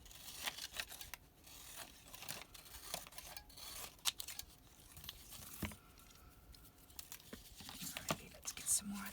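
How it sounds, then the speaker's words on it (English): Scissors snip and trim a paper leaf embellishment for mini ephemera, producing a series of faint, close cuts and light paper rustles with brief pauses, under soft background murmuring. "I need to trim this now"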